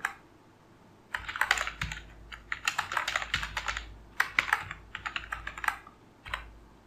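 Bursts of fast typing on a computer keyboard while entering HTML list items, close and crisp clicking in several runs separated by short pauses.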